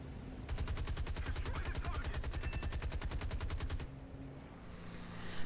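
A Curtiss P-40E fighter's machine guns fire in a rapid, sustained burst of about three seconds during a diving attack in War Thunder, over the steady drone of the aircraft engine, which continues after the firing stops.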